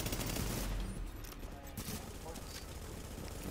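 Rapid automatic gunfire in The Division video game, a dense continuous burst that dominates the clip with little pause.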